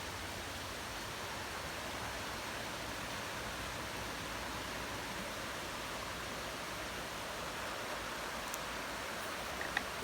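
Water trickles behind a hotel in Maggie Valley as a steady, faint, even rushing hiss that continues without change from start to finish, with no voices.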